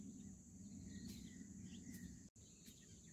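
Faint bird calls, a few short chirps and whistles, over a steady droning insect buzz in a rice field; no talking.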